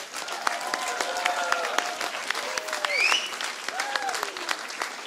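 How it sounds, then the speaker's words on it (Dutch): Theatre audience applauds steadily in a hall, dense continuous clapping from a crowd, with some whistles and cheering voices rising over it. "nu wil ik jullie vragen een applaus te geven voor al het publiek"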